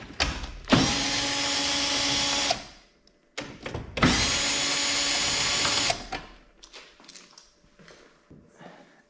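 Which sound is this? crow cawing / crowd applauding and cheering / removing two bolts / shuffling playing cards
removing two bolts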